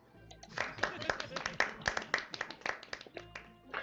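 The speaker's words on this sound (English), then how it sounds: "You hear applause and laughter" Scattered claps with laughter and crowd murmur from the video game Life and Suffering of Sir Brante, irregular and moderately loud, mixed with voices talking over them.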